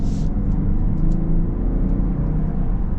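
A 2024 Kia Carnival SX-Prestige minivan accelerates, a steady low engine and road rumble heard from inside the cabin, even and continuous throughout.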